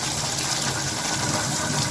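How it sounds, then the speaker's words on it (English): Water runs and splashes steadily as a washing machine filter is rinsed from the reverse side, a continuous close gushing hiss with no pauses. "Now apply water in reverse direction. Put water from this direction,"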